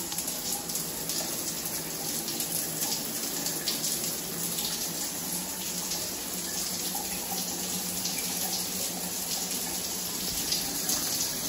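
Water pours steadily from a Kohler DTV Plus shower rain head onto the shower below, a continuous loud hiss and splash with no pauses.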